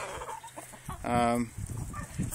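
A Delaware rooster gives short clucks and one drawn-out call in a farm setting, close and fairly faint, with quiet scattered sounds around it.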